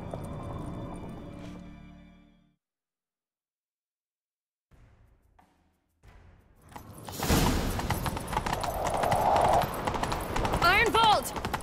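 Horse hooves galloping in The Witcher 3, a rapid rhythmic clip-clop that rises loud after a short silence, mixed with game effects and a brief whinny, with a character speaking beforehand.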